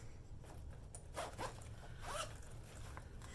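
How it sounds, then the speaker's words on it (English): A purse pocket zipper is pulled open in a few quick, quiet rasping strokes close by, set against a soft background hum. "Oh, I put it in one of these zipper pockets."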